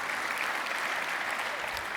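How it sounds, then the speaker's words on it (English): Audience at a Kawaiicon security conference session gives a brief burst of steady, dense clapping, with the full room applauding evenly throughout. "Give yourselves a round of applause"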